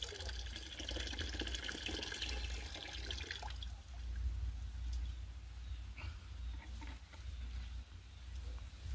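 Water swirling and trickling as micronutrient powder is mixed in for spraying a corn crop, a steady close liquid wash running throughout with low rumble underneath.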